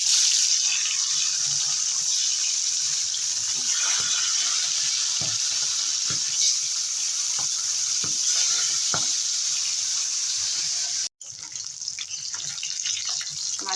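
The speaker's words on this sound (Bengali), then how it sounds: "তেল গরম এবারে মাছগুলো ভেজে নেবো" Small bata fish rubbed with salt and turmeric fry in hot oil, a loud steady close sizzle with occasional pops and spatula taps, briefly cutting out before resuming.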